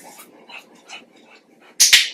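A dog being trained to stay on its bed lets out a few faint, high whimpers, then two loud, sharp, close snapping or clicking sounds at the end.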